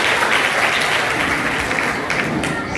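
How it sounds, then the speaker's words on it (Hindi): Loud, sustained applause from an audience at an Indian community event welcoming a guest, dense clapping of many hands close by, steady and continuous with a few sharper individual claps. "जोरदार तालियों से हम डॉक्टर देवेंद्र जी का स्वागत करेंगे।"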